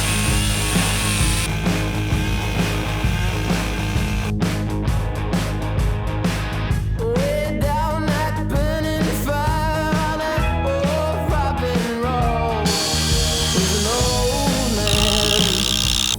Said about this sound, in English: So I'm gonna have to try and trim it down with a chainsaw.